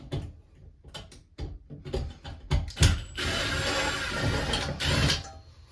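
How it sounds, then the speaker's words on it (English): Screws being backed out of a loose toilet paper holder mounted on a wall, a run of irregular metallic clicks and ticks that builds into a steadier grinding whir, close and fairly loud, with no talking. "all we're going to do is remove these two screws"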